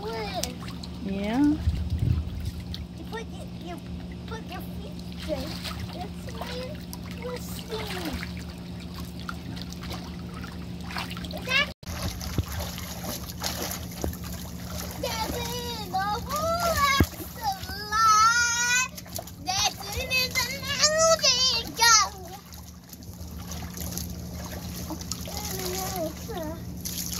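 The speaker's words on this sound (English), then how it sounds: "How much water do I splash out?" Water splashing in a swimming pool, intermittent splashes and trickles running under a voice and other talk throughout.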